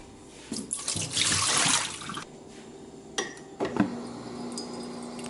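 Water gushes from a refrigerator dispenser being flushed after a new water filter install, a loud hissing burst lasting about a second, followed by a few brief clunks and splashes.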